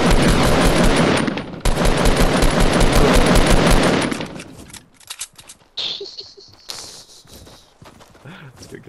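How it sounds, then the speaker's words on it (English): Fortnite gunfire heard as a dense burst of rapid, loud shots lasting several seconds, followed by a few scattered sharper cracks and clatter, loud and close, with no talking. "I'm gonna use this hunting rifle."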